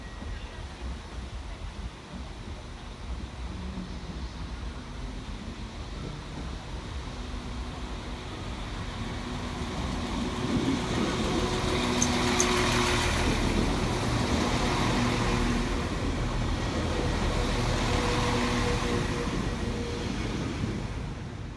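A Transport for Wales Class 197 diesel unit pulls into Cardiff Central, a low rumble that swells from a distance to a loud, close roar with squealing wheels and brakes, then eases off slightly.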